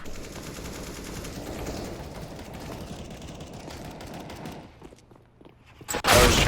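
Rapid automatic gunfire from the video game Counter-Strike: Global Offensive, dense bursts of shots over several seconds that thin out, then a sudden loud burst at the end.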